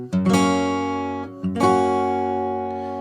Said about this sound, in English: One thing you'll notice in here are some chord rolls that sound like this.